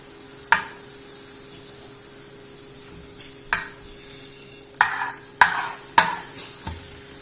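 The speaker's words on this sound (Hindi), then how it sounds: "अब इसमें हम हमारे ब्रेड को अच्छे से टोस्ट कर लेंगे।" Bread toasts in melted butter in a pan, giving a quiet, steady sizzle punctuated by about half a dozen sharp spatula taps and scrapes, growing busier toward the end, with no speech.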